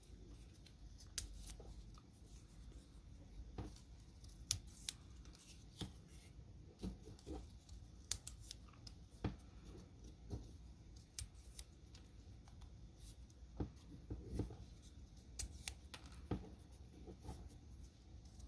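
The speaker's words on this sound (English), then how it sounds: "I like to cut them small because worms aren't that big" Scissors snip food scraps into small pieces for a small indoor worm bin, a series of soft, close, irregular cuts alone in a quiet room.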